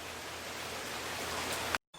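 Steady rain falls outdoors in a dense, even hiss for almost two seconds, then cuts out briefly before resuming.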